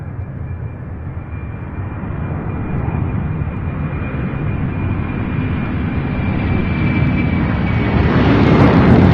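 Boeing 757 jet taxiing at Louisville International Airport, a steady rumbling engine roar with a thin high whine that grows slowly louder as it passes nearby.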